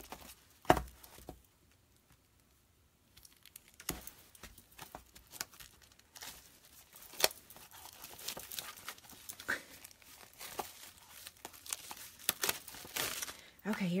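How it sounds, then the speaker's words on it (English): A paper pack is opened with bursts of crinkling and tearing wrapper noise, sharp rustles scattered across the stretch while a person talks intermittently. "Okay, let's open this pack of paper."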